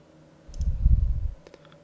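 A computer mouse gives a couple of sharp, quiet clicks in a quiet room, with a soft low thump between them.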